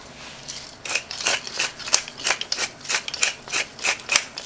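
A pepper mill grinds pepper over a pot of small cuttlefish and white beans, a close run of quick dry crunching clicks in an even ragged rhythm, with no talking.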